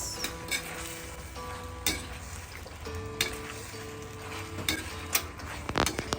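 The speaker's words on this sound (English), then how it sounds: "Then I add the pork belly into the pan and give everything a good mix." Pork belly being stirred through a sweet and sour glaze in a hot pan, with a steady close sizzle and occasional scrape and clack of the utensil against the pan.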